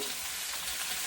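Pork ribs and corn soup stirred in a pot, with a short steady bed of bubbling and sizzling texture, close and fairly quiet, no distinct clinks.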